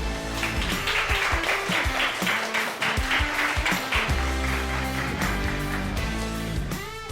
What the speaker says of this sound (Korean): 힘찬 박수로 환영해 주세요